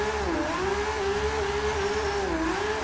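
A Nissan R32 Skyline engine in Forza 6 revs continuously, its droning tone rising and dipping slightly under constant throttle, loud and close throughout.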